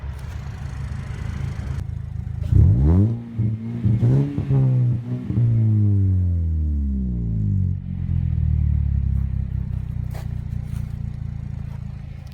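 A 2016 Chevy Colorado base 2.5L with a 6-speed manual and aftermarket exhaust revs up twice from idle, the exhaust note rising and falling in a deep, close drone before settling back to a rumbling idle.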